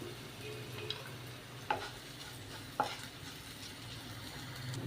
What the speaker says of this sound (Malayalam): ഇനിയിപ്പോൾ ഇതിലേക്ക് കുറച്ച് മുളക് വറ്റൽ മുളക് ഇട്ട് കൊടുക്കാം